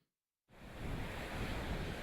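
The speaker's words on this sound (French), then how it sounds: "Vent violent, grande marée, vagues importantes et pluie" Strong wind and big waves at the Port-Louis ramparts during a storm with a high tide, a roaring wash of surf and gusts that bursts in suddenly after a brief silence and stays loud and constant.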